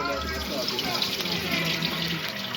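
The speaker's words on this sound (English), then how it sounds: "You have to wash your rice." Rice being washed in a kitchen sink under a running tap, water gushing steadily and splashing close by throughout, with a voice faintly underneath.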